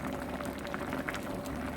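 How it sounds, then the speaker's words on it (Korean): Braised cutlassfish with radish and potato simmering in an uncovered pot, a continuous soft bubbling and popping of sauce, close and steady without voices. "처음에는 생선이 끓을 때까지 뚜껑을 닫아줬다가 끓기 시작하면은 냄비 뚜껑을 열어줘야 됩니다."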